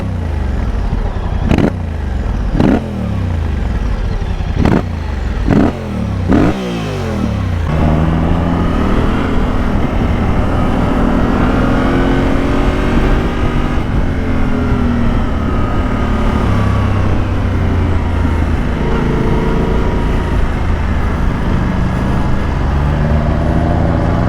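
Yamaha Ténéré 700 fitted with an Akrapovic exhaust gives a run of quick, punchy throttle blips over a loud idle, then settles into a sustained engine drone with gently rising and falling revs as it rides off.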